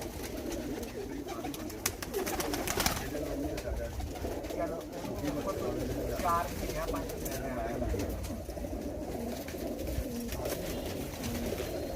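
Breeder pigeons in a Faisalabad loft coo in soft repeated bursts, with muffled voices and background bustle running underneath.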